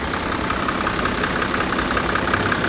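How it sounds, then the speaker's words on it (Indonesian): A car engine idling with the hood open while it warms up, a steady, loud, even mechanical hum with a faint regular ticking rhythm throughout. "Dan kita tunggu 5 menit dinyalakan sambil buka kap mesin."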